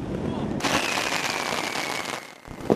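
Firecrackers set off by citizens across Beijing at the Lunar New Year, a dense crackling burst that erupts loudly and continues steadily before cutting off, with a sharp pop at the end.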